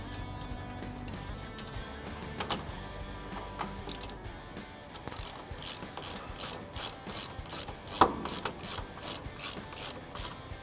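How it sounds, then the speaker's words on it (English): A ratchet tightens a sway bar bolt with a 15mm end wrench during installation of high-clearance trailing arms on a Polaris RZR XP1000, quick close clicking strokes in rhythmic bursts with a metallic clunk near the end. "tighten that up with a 15mm end wrench and ratchet"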